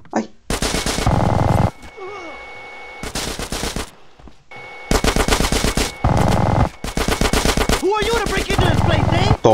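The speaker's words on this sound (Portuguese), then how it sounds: "a minigun é muito forte, né?" A minigun fires in GTA San Andreas in long, loud, continuous bursts separated by short pauses, with brief in-game sounds between the volleys.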